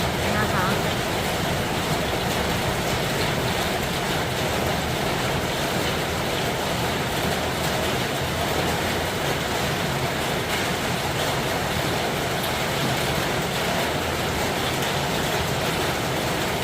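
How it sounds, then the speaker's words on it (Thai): Steady rain falls with a dense, even hiss that never lets up, filling the air without any other clear sounds. "ฟังเสียงฝนนะคะ ฟังเสียงฝน"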